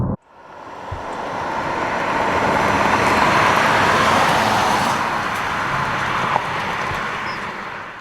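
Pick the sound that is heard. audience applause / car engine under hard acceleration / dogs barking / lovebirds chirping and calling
car engine under hard acceleration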